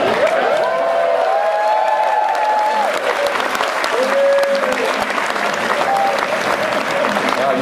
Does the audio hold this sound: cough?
no